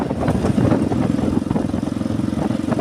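Motorcycle being ridden along a road toward Merasi in Musi Rawas, giving a steady, close engine drone with a slightly uneven, pulsing texture throughout, and no voices.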